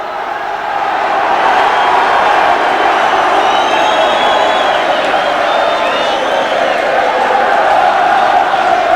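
A huge stadium crowd at Old Trafford roars steadily for the 1993 rugby league Divisional Premiership final between Featherstone and Workington Town, with whoops and shrill whistles rising over the sustained cheering.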